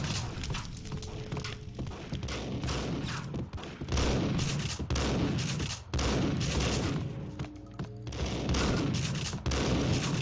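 Rapid shotgun blasts and bursts of gunfire in the video game Max Payne, loud and dense, with repeated heavy booms and rattling shots overlapping through the whole stretch.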